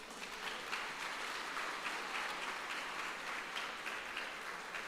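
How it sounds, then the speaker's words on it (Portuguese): Church congregation clapping during a Portuguese-language sermon, a steady, even wash of applause that is fairly faint and distant, with no voices above it. "Aplauda Jesus, irmãos."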